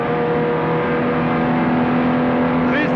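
Onboard a 1962 Aston Martin DB4 GT at speed at Spa, held in fourth gear at around 200 km/h: a loud, steady engine drone with a constant whine and no breaks.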